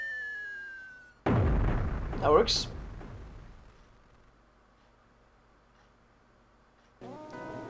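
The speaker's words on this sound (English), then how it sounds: "There were fireworks inside." Fireworks bursting in the video game Mother 3: a sudden loud boom with a crackling burst that rings out and slowly fades, followed by game music, with a brief spoken remark near the end.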